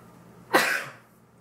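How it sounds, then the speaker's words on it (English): A single sharp, breathy burst rises suddenly and trails off over about half a second, close and fairly loud, like a sneeze. "I have to sneeze."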